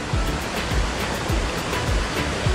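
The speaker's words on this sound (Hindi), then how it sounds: "दोस्तों यहाँ पर कितना तगड़ा पानी है, यहाँ पे पूरा प्रेशर है" Strong rushing water pours through the Dadupur barrage on the Yamuna at Yamunanagar, a loud, continuous roaring wash heard up close with no voices over it.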